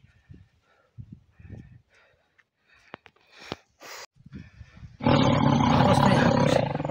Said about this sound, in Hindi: हो सकता है यहाँ कोई बाघ होगा